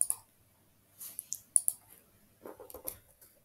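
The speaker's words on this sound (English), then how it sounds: "click on plus icon" Faint computer mouse clicks in a quiet room, a few sharp separate taps spread over a few seconds.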